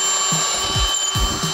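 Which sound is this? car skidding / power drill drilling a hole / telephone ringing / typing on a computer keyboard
power drill drilling a hole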